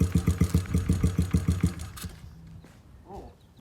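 A small carbureted engine with its choke removed runs with a rough, lumpy idle, its loud rhythmic chugging faltering and sputtering down about halfway as it nearly stalls, followed by quiet near-silence.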